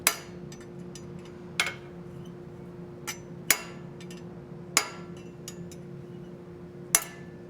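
Sharp, ringing hammer blows strike hot metal on a ball stake while an acanthus leaf is forged, about six loud metallic clangs at uneven intervals with a steady background hum between them.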